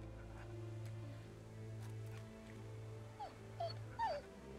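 A dog whimpers in The Walking Dead video game, a few short rising whines near the end over a steady low hum of game ambience.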